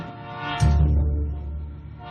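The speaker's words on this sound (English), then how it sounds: "they yelled that there was a train coming." A CSX freight train approaches with a deep rumble, and its horn blares loudly over the heavy rail noise for about two seconds.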